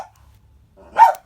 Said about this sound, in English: I have dogs that like to scream and holler.